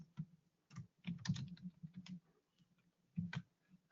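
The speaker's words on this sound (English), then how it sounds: "I'm going to type hello." Quiet, close keystrokes on a computer keyboard as a short word is typed, a few scattered clicks and small clusters with gaps between them and no talking.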